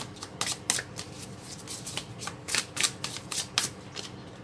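A tarot deck being shuffled by hand, close and fairly quiet, with a rapid run of papery riffles and flicks that come in bursts.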